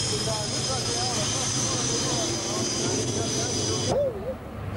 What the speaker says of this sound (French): Regardez bien, c'est un MiG-21